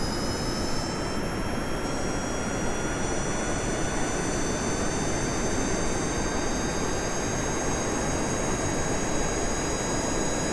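A rocket engine roars steadily in Kerbal Space Program, a loud, dense, continuous jet-like thrust with a high whine layered on top, holding constant for the whole stretch.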